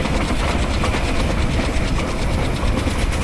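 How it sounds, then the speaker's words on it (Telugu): Train Simulator locomotive speeding along an Indian Central Railway route: a continuous loud rolling rumble with faint rhythmic clickety-clack of wheels, steady throughout with no voices. "చాలా వేగంగా పరిగెడుతుంది మన ట్రైన్"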